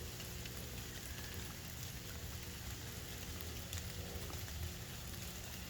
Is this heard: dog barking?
no